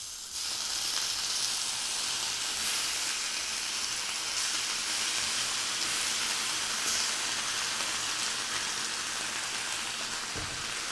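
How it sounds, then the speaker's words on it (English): Tomato sauce hissing into crispy tortillas in a hot pan, a steady loud sizzle like heavy rain that continues evenly and drops off briefly near the end. "once the tortillas are all crispy and everything, you just add the tomato sauce"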